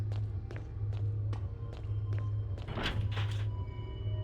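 Door handle rattling against a lock in the Resident Evil 1 Remake, a series of sharp regular thunks over low background game ambience.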